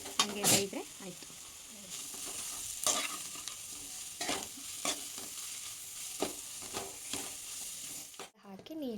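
Vegetables and packet fried rice are stirred in a pan, a spatula scraping and clattering in repeated strokes over a steady close sizzle.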